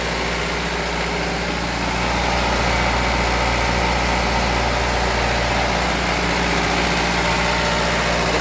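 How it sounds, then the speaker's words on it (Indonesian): Car engine idling steadily with one rear wheel jacked up during a transmission check, a continuous close low rumble with a slight rise in level partway through, no talking. "Ini saya lagi ngetes transmisi ya"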